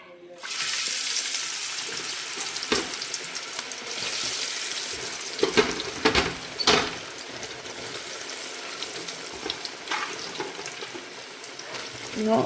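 Tapioca pieces tip into boiling coconut oil in a heavy uruli, setting off a loud, steady bubbling hiss with a few sharper splashy bursts throughout.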